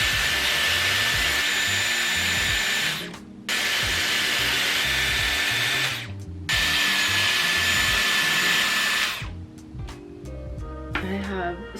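A Dyson Airwrap with the small barrel blows a steady loud whooshing hiss while curling hair. The airflow cuts out briefly twice and then stops near the end, leaving light handling noise.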